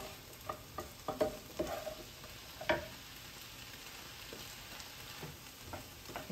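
Onions stirred in a pan for minestrone soup give off a quiet sizzle, broken by several close spatula scrapes and taps in an irregular rhythm.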